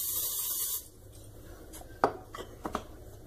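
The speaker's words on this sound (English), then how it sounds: "Take your cooking spray and spray a fair amount in the bowl." Cooking spray hisses into a bowl in one steady burst lasting under a second, followed by soft clinks and rubbing as the bowl and utensils are handled for a microwave brownie.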